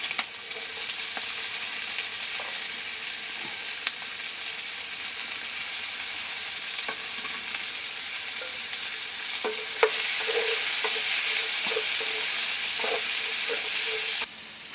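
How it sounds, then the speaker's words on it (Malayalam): Sliced onions sauté in the oil left over from frying fish for a Kerala-style pepper fish fry, a steady sizzle with occasional stirring scrapes and clinks, growing louder and brighter partway through before dropping at the end. "നമ്മൾ മീൻ വറുത്ത എണ്ണയ്ക്കകത്തേക്കാണ് സവോള ഉള്ളി എല്ലാം കൂടെ വഴറ്റിയെടുക്കാൻ പോകുന്നത്"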